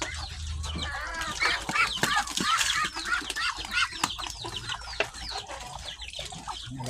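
Poultry at a farm feeding time, a mix of clucking birds with rapid overlapping calls, chatter and occasional crowing-like cries, fairly close and continuous with no talk.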